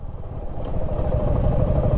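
A motorcycle engine gives a low, steady rumble that swells slightly louder as the bike slows on engine braking downhill near a waterfall.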